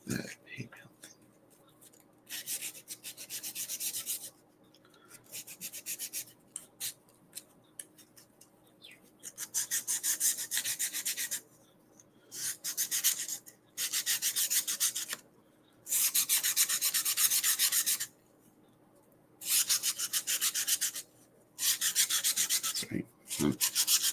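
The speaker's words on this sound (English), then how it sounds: "getting some sanding" Repeated bursts of rough sanding on a wooden model boat kit, each lasting a second or two, separated by short pauses of quiet; close and fairly loud, no talking.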